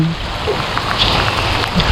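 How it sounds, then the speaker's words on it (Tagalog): Rain pours onto a large river during lift-net fishing, a loud, continuous hiss of drops on water with a low rumble underneath and no break. "Ang ulan."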